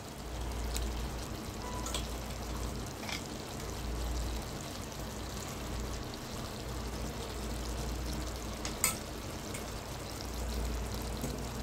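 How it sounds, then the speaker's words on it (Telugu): Chicken pieces coated with ginger garlic paste are stirred in a pan for Andhra-style chicken fry, giving a low, steady sizzle with soft scraping and occasional faint clinks. "అల్లం వెల్లుల్లి పేస్ట్ ఆ ముక్కలకి పట్టేలాగా బాగా కలుపుకోవాలి."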